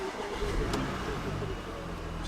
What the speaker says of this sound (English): Now I'll turn it on, pop the key in